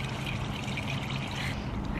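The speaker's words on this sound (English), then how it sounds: "All right, so the water's still trickling through." Water trickles and pours steadily through an RV sewer hose fitted with a clear elbow at an RV park, a close, continuous watery rush without talking.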